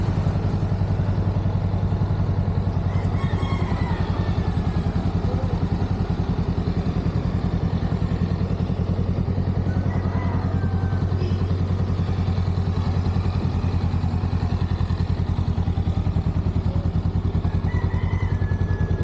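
A stock Honda Rebel 500 motorcycle engine runs steadily at idle, a low continuous rumble with a faint mechanical clatter, close by and unbroken for the whole stretch, with no talking.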